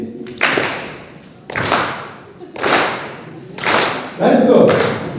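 Audience at a life-skills education conference clapping on cue in short, loud bursts, about four separate rounds each fading out, with a speaking voice between them.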